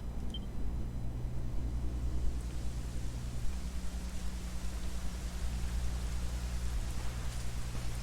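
Steady rain falls in Dragon Quest XI S, a continuous even hiss of downpour with a low droning game ambience underneath, no voices.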